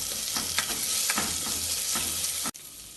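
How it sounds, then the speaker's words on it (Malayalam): A pan of roasted cumin powder and garam masala is stirred and sautéed for millet khichdi, with a steady sizzle broken by repeated scraping strokes of a spoon, then an abrupt drop near the end. "ഇതെല്ലാം ചേർത്ത് ഇളക്കി വഴറ്റാം."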